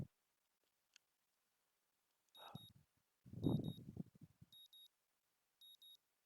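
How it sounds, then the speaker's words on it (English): An electronic alarm clock rings on a morning scene in the Katawa Shoujo video game, with four quiet, evenly spaced pairs of short high beeps and a few muffled sounds between them. "the sound of my alarm quickly has me up and about"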